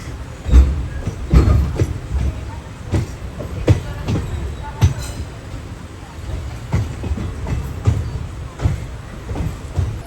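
A passenger train moves near Kollam station in Kerala, with a new WP4 locomotive nearby, giving a close rumble and repeated rhythmic wheel clacks and thumps over the rails that keep going through the clip.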